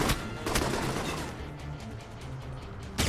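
Gunfire in the Alpha Protocol video game, a dense, sustained barrage of shots with sharp bursts at the start, middle and end over a steady rumble.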